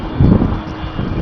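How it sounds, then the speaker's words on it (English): Low, rumbling wind buffeting the microphone, loud and continuous with a gust swelling briefly near the start. "And I'm sorry for the wind."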